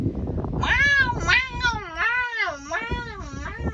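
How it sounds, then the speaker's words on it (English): A pet cat meows repeatedly in long, drawn-out, wavering cries, loud and close, one after another with barely a pause, while a voice murmurs faintly beneath. "I apologise for my mewing cat."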